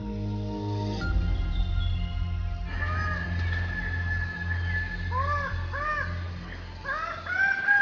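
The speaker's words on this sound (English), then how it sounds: "These are the birds of paradise." Birds of paradise in the Papuan forest give harsh, caw-like calls and rising whistled notes, repeated in bursts over a steady low drone and music.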